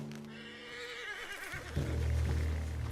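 A horse in Red Dead Redemption 2 lets out a single whinny that wavers and then drops into a lower, breathy snort, close and clear against quiet surroundings.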